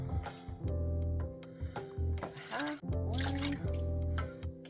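Lukewarm water poured into a large bowl for a yeast dough gurgles and splashes in close, uneven bursts, with a few short pauses.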